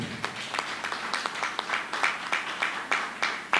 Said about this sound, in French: Si nous pouvons applaudir pour les responsables des écoles qui ont répondu présent